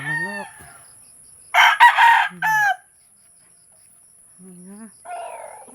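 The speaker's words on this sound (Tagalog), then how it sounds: "May manok." A rooster crows once, loud and close, on a rural plot with papaya trees and small huts. The call rises in bright bursts, with soft clucking and insect chirps around it before and after.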